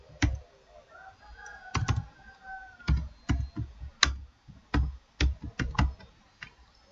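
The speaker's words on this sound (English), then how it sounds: "Then I'm going to type the name of the person here." Keys clatter on a computer keyboard as a name is typed in short bursts of crisp clicks with brief pauses between, close and fairly quiet, with no talking.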